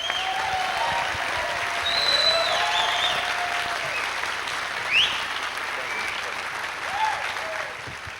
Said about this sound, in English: please give a round of applause for Mike Sexton.